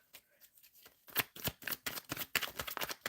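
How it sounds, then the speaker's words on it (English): Tarot cards riffled and shuffled in a quick run of crisp, papery bursts, sparse and soft at first, then dense and loud from about a second in, with no voices. "Okay, Spirit, AB, shuffling for AB, what is coming into their lives?"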